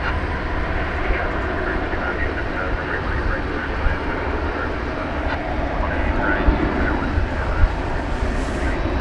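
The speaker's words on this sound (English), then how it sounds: "Yet another 21st century aircraft." Airplane engine roar at DFW airport, a steady broadband rumble that stays loud throughout, with light crackle and no clear voice over it.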